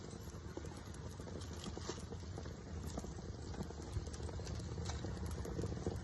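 Burgers sizzling on foil in a frying pan, a steady quiet crackling hiss with scattered small pops running evenly throughout, no voices over it.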